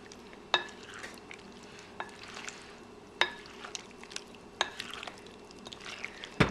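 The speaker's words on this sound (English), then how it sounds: "Now we're going to very gently fold in or stir in the blackberries, because they are kind of delicate." Blackberries are gently stirred into a peach mixture for a cobbler, soft wet stirring and scraping in a bowl with a few sharp taps of the utensil against the rim, close and fairly quiet.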